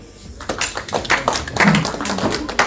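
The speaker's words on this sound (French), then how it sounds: "Je vous remercie beaucoup, on peut l'applaudir" An audience at a private evening show claps for a volunteer in a short burst of scattered applause, with some voices mixed in.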